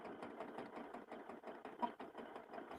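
Sewing machine stitching a line onto a bunny Easter basket, a steady quick mechanical whir of needle strokes, faint and close, running without pause.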